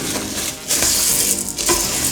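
Cooked beans and rice are mixed in a rice cooker, a close, continuous soft crunching and scraping of a spoon through the grains with brief louder scrapes.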